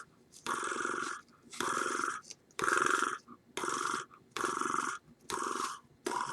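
A cat purrs close by in rhythmic, rumbling cycles, about six even bursts separated by short quiet breaths, with no talking over it.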